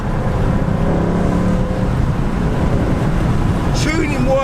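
A naturally aspirated car's engine revs steadily through downshifts, a loud continuous drone with rising and falling pitch, close by, and a brief higher whine near the end.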